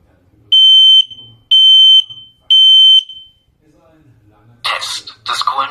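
An X-Sense combination smoke and carbon monoxide detector sounds its test alarm: three loud, evenly spaced high-pitched beeps, each about half a second long, followed by a synthesized voice speaking.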